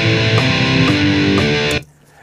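Guitar notes plucked one at a time from a tab line, a few distinct attacks ringing together in a steady sustained tone before cutting off sharply near the end.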